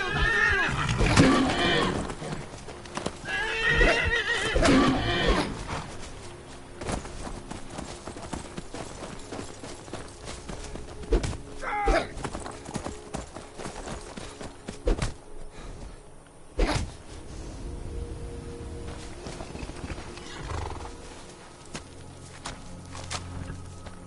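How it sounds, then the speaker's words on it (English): In the video game Skyrim, hooves clip-clop steadily and a horse whinnies loudly a couple of times early on, followed by more walking hoofbeats and scattered thumps. "What's up, Frost, my new horse?"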